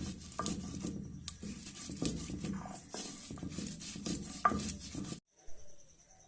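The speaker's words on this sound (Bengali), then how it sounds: "এবার লঙ্কা, মাছ আর জিরেটাকে ভালো করে বেটে নেব।" Chilli, fish and cumin being ground into a paste by hand. A steady close scraping and rubbing rhythm runs for about five seconds, then cuts off abruptly and leaves faint quiet. No one speaks.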